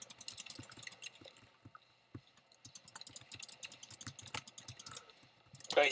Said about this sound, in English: I'm clicking wildly on these screens